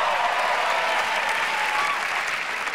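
A theater audience at a stand-up comedy show claps steadily, a dense, even wash of applause that holds at full strength throughout with no voices breaking through.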